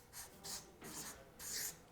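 Marker or chalk strokes on a board during a chemistry lesson on molecular geometry, a few quiet scratchy rubbing strokes in short bursts, close and faint with no talking.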